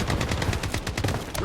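FN F2000 assault rifle firing in Blood Strike, a fast, loud, continuous automatic burst of sharp cracks lasting about a second and a half.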